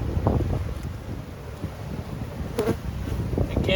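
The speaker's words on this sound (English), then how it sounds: "I am seeing bees up here." Bees buzzing close around a beehive, a steady low hum of many insects with wind noise brushing the microphone throughout.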